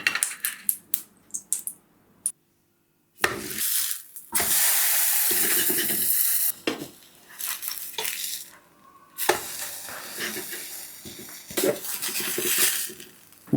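Pupusa patties fry in a hot pan, with bursts of steady sizzling broken up by clinks and scrapes of a utensil against metal, all close and fairly loud with no voices.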